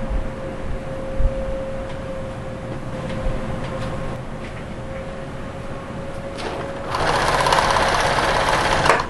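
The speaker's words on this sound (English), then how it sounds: "Just top stitching it from the top to the bottom" A sewing machine runs steadily, top stitching a large square fabric pocket on a cutting table organizer, then speeds up into a louder, busier whir near the end.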